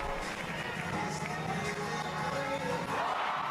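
A basketball arena crowd roars and cheers steadily after a pair of slam dunks, a dense wash of shouting and applause from a large audience with no break.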